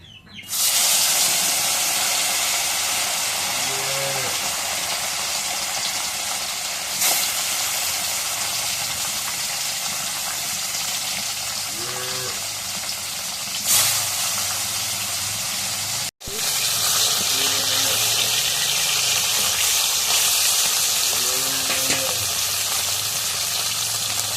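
Fish fries in hot oil in a wok, giving a loud, continuous spattering hiss that starts abruptly, cuts out briefly midway and then resumes. A voice speaks faintly in a few short moments.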